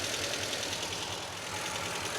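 A 1979 MGB engine fitted with a Weber carburetor idles at a steady, even pulse, heard up close and unbroken over a couple of seconds.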